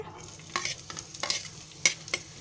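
Onion fries with green chilli in hot oil for egg bhurji, giving a soft sizzle with a few distinct spoon scrapes and taps against the pan, moderately quiet and without talk.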